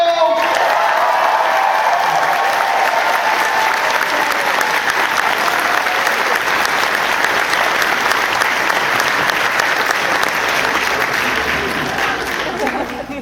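A convention panel audience for Star Trek Voyager applauding, a loud, dense, sustained wave of clapping from a large crowd that holds steady throughout and fades slightly at the end.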